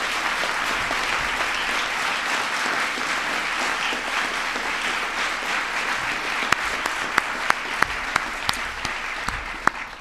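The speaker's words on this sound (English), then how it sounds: "give yourselves a big round of applause as well" Sustained audience applause fills a school science fair gathering of students, parents and teachers, steady dense clapping throughout with a few sharper individual claps standing out near the end, no talking.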